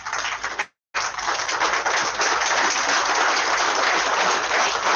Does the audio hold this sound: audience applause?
yes